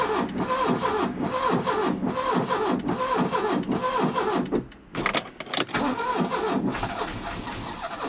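Mk3 Vauxhall Cavalier engine cranking and struggling to start: a steady, rhythmic whirring churn of the starter for several seconds, a brief stumble and catch, then more uneven cranking, close and fairly loud with no talk.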